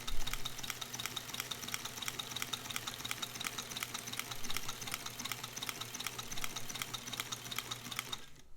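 A sewing machine fitted with a Singer ZigZagger attachment stitches fabric in a fast, steady mechanical clatter of rapid even beats, running continuously at close range before stopping abruptly at the end.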